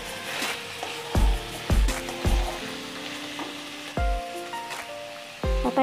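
Mixed vegetables fry in oil with a loud, steady sizzle, broken by several sharp clanks of a spoon stirring against the pan.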